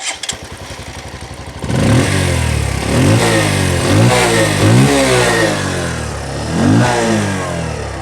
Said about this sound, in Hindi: सबसे पहले इसका जो एग्जॉस्ट साउंड है वो मैं आप लोग को सुना देता हूँ।